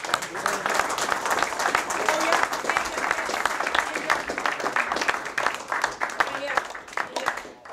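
Audience applause at a men's group gathering, a continuous wash of many hands clapping at close range throughout, with voices talking underneath.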